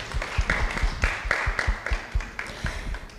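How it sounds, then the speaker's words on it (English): Audience at a women-in-science celebration event in Ghana clapping, a steady patter of individual claps at moderate loudness, fairly close and without speech. "Please, a round of applause for ourselves."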